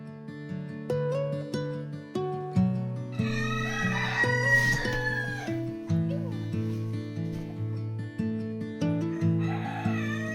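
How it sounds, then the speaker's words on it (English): Chickens cluck and a rooster crows loudly among a backyard flock kept in the woods, with layered calls overlapping close by and no talk. "pretty soon after I got quite a few more chickens and a couple of roosters."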